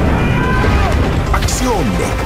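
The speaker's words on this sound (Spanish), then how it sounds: "Explosiones." Explosions crash and boom in a dense, loud movie trailer mix, with sweeping effects and a speaking voice over the continuous roar.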